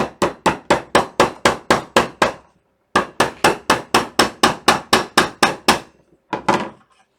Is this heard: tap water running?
no